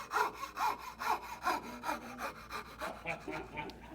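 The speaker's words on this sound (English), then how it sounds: "But I'm going to saw across here. It's going to make a sound." A hand saw cuts across a piece of wood in a village craft shop, with about ten steady back-and-forth strokes, close and rhythmic, each rasping pass clearly separated.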